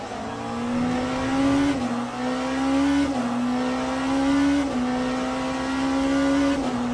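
A race car lapping Portimao in Le Mans Ultimate: a loud, close engine note stepping up through repeated gear shifts, with tyre squeal mixed under the engine tone, no talking.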